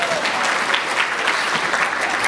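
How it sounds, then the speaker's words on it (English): An audience claps steadily, a dense, even wash of applause that holds at a constant level throughout without a break. "round of applause for Glee."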